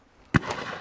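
A single sharp, loud shotgun report at a driven game bird shoot on Leighton Long Mountain cracks out close by after a quiet moment, followed by a short fading tail.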